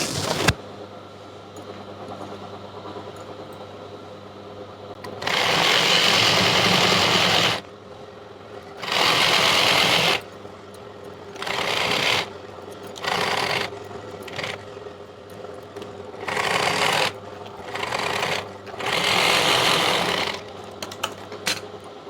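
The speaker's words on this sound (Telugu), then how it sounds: "ఇప్పుడు పైనుండి ఇంకొక కుట్టు వేసుకోవాలి." Sewing machine stitching a ladies' pant, running in several loud bursts of steady whirring separated by short pauses, with no talk.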